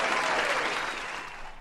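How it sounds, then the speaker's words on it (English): Applause from a live audience at a Cleveland Browns fan talk show, a short burst of clapping that starts strong and gradually thins out. "You get some applause on that."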